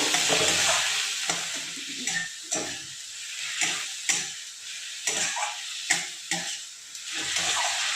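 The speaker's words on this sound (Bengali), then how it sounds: "দিয়ে এবার ভালো করে একটু মিশিয়ে নেব" Cut chicken is stirred into a frying pan for an egg chicken roll filling, with a constant sizzle broken by repeated scraping and clinking spatula strokes.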